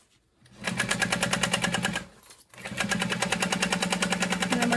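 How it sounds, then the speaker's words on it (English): A sewing machine stitches a wristlet clutch in two rapid, rhythmic bursts of needle clatter. A short pause separates them, and the second run lasts longer. The sound is close and fairly loud, with no voices. "so I'm gonna backstitch a couple times there"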